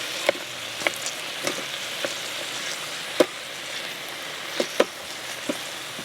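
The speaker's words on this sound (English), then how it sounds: "We're just going to saute this until all the meat" Meat browning in a pot on an electric pressure cooker's saute setting, with a steady faint sizzle broken by several sharp clicks and clacks of a utensil stirring, no talk.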